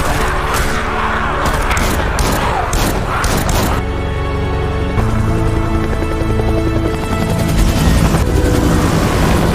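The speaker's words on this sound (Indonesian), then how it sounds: "muncullah tim SAR yang menggunakan helikopter. Mereka langsung menyapu bersih para zombie" Loud, dense action-film soundtrack as a rescue helicopter sweeps a horde of zombies with gunfire in a Korean zombie movie: a steady rotor-like drone with bursts of impacts, booms and crashes layered throughout, with no clear speech.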